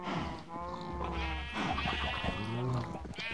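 Repeated Minecraft sheep bleats, a few wavering baas in quick succession over a busy game soundscape, loud and near, with a voice briefly audible.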